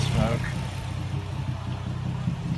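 A replaced engine in a Nissan G35 idling on its first run, a steady low rumble with an even, stable rhythm, close to the microphone, with someone talking over it at the start.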